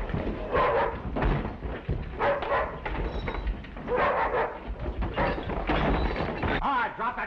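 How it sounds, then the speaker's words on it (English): A hungry dog in a 1937 Western film whimpering and yipping after being kicked, close and fairly loud, with old-film noise and people talking around it. "that isn't very sportsmanlike kicking a hungry dog like that"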